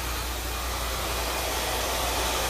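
A hair dryer fitted with a diffuser attachment blowing steadily at a salon, a constant close whooshing hiss with a low motor hum and no voices.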